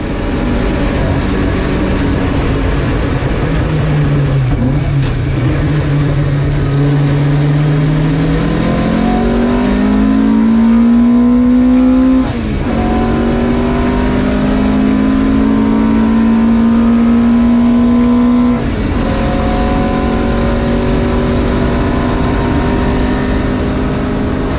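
A classic Marcos race car engine roars continuously up close at Snetterton, pitch climbing through rising revs with a few quick gear shifts, loud and unbroken.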